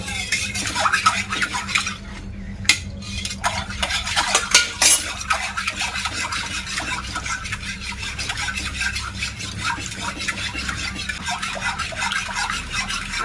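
A milk mixture for misti doi is stirred in a pot, with a spoon scraping and clinking against the metal in a constant, close rhythm and a few sharper knocks early on.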